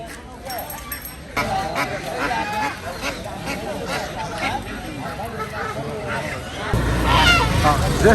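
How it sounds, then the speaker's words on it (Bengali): Ducks and other fowl honk and quack in a steady crowded chorus at a busy village poultry market in Haluaghat, Mymensingh, with people talking and general market bustle throughout, growing louder near the end. "একদিকে আপনার মুরগির হাট অন্যদিকে আপনার হাঁসের হাট"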